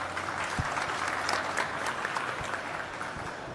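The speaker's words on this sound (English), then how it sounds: "Let's give a huge round of applause to Nigel" A conference audience at VivaTechnology claps for a speaker taking the stage, even sustained applause from many people with a few sharper nearby claps standing out.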